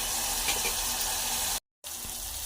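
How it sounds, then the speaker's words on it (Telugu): Tomatoes fry in a pan with onions and green chilies, producing a continuous close hiss broken by a brief moment of silence. "టమాటాలు వేగించుకోవాలి. వేగుతుంది కదా"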